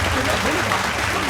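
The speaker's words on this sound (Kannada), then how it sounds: "ಜೋರಾಗಿ ಚಪ್ಪಾಳೆ" Audience applause in a comedy television studio show, a dense, steady clatter of clapping filling the whole short stretch at close range.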